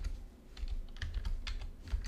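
Quiet, steady typing on a computer keyboard during Python coding, a soft irregular patter of keystrokes with no voice over it.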